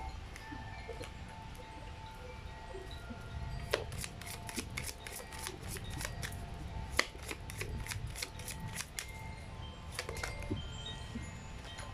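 Tarot cards handled and shuffled up close, a steady run of crisp riffling flicks and sharp card snaps repeating through the passage, with no talking.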